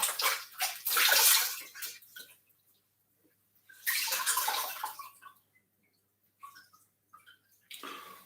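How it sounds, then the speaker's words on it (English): Hands getting a quick rinse under a running tap during prawn cooking prep, heard as bursts of splashing water separated by quiet gaps, the longest near the start and another around the middle, with a shorter splash at the end. "Your hands quick wash. Just a rinse."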